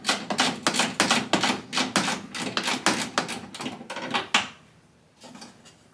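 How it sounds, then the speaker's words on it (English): A hand ratchet working the door bolts on an old truck, rapid clicking bursts in quick rhythmic runs, loud and close, then trailing off into quiet near the end. "you can get right in there with these things and just ratchet a door right"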